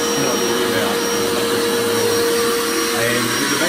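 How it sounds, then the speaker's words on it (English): A vacuum fume extraction system on a home-built CNC laser router runs with a steady, loud, even whooshing roar and a faint high whine, close by and unchanging from start to finish. "And with the vacuum system, it blows it all outside."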